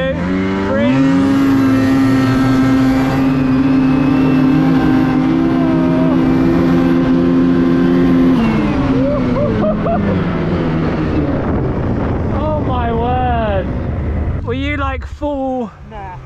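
Ski-Doo snowmobiles race side by side, one turbo and one non-turbo sled, at full throttle: a loud, steady high engine whine holds for about eight seconds, then pitch drops and wavers as people talk and shout near the end.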